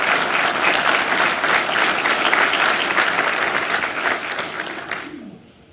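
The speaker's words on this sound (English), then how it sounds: "I think we all owe them all a round of applause." A crowd at the Putnam County, New York budget address claps in a full, steady round of applause that gradually thins and fades out in the last second.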